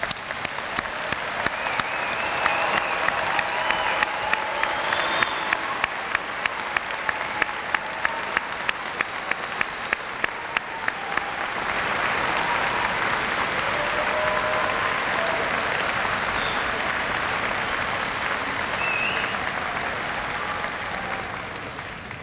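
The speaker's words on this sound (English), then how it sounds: "let's have a round of applause for our newest graduates" Sustained applause from a large audience at a university convocation ceremony welcoming new graduates, dense clapping that holds steady for about twenty seconds before gradually thinning.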